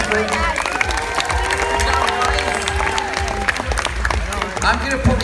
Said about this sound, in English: Round of applause, guys, please.